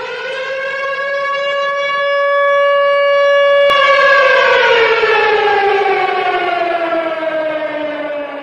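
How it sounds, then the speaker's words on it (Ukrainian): Civil defense air raid warning siren from a public alert system in a Ukrainian town, a loud sustained harmonic wail that holds steady and then begins a slow downward glide, with no voices. "сирена буде лунати 4 хвилини поспіль"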